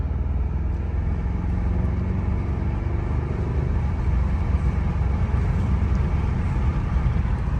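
BMW M550i V8 engine pulling hard, a steady dense roar and rumble at constant loudness throughout with no break or talk.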